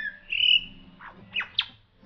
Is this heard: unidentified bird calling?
yes